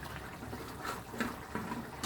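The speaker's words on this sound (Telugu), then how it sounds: "కొద్దిగా వాటర్ పోయాలా" Water is poured into a pan of keema meatball curry gravy with coconut and poppy seeds, a soft splashing trickle with small gurgles, fairly quiet and alone.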